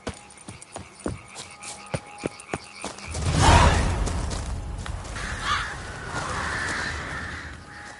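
Crows caw in The Witcher 3 game: after a few seconds of sharp, evenly spaced ticks, a loud harsh caw bursts out near the listener, followed by rougher croaking calls and a lingering flutter of game ambience.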